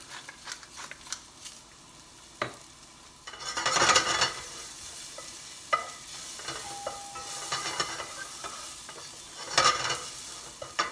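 Steak sears in a hot pan for Steak Diane, seasoned with salt and black pepper. A soft crackling sizzle runs throughout, broken by scraping and stirring clatters and a few louder hissing bursts, with no talking.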